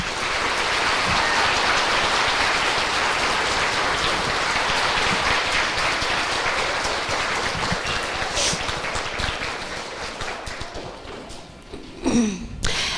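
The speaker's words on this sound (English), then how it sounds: "Please give them a round of applause." Sustained applause from an elementary school Veteran's Day audience honoring Marine Corps veterans, a steady dense wash of clapping that gradually fades, with a brief voice near the end.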